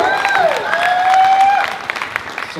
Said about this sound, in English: Let's give another round of applause for Sonam